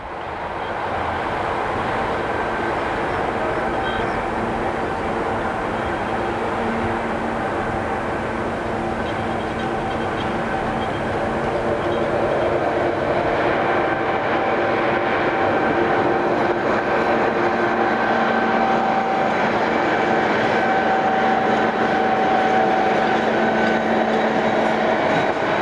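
SNCF CC14100 electric locomotive number 14131, a 127-tonne freight engine, arriving at Woippy depot in August 1996: a steady, loud rumble and rolling wheel noise with a faint tonal whine, growing slightly louder as it passes close by.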